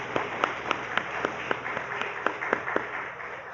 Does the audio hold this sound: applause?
yes